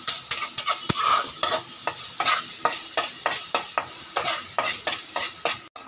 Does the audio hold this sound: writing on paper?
no